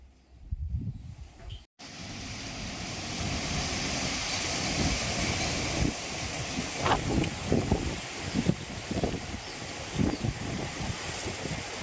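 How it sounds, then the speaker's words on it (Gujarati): Strong, gusting wind of a windstorm roars steadily across the microphone, with rumbling buffets and a brief dropout near the start; no voices. "વાવાઝોડું આવ્યું"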